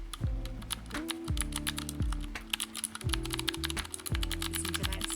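Mechanical keyboard with Cherry MX Blue switches, a Mistel Barocco MD770, typed on in close, steady bursts of crisp clicky keystrokes. A low electronic hum runs underneath with stepped tones, and no one speaks.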